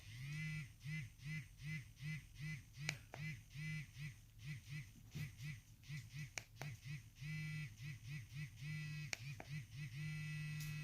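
A La Vie lactation massager vibrates steadily in a low hum, switching between pulsing rhythms and a constant buzz, close and alone with a few sharp clicks as modes change.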